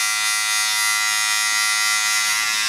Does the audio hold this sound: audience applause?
no